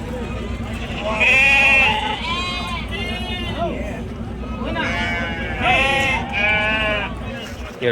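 A ram at a livestock market bleats several times in loud, wavering cries, alone and in quick pairs, over a constant background of market crowd chatter and voices.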